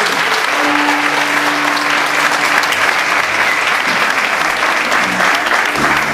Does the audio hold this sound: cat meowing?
no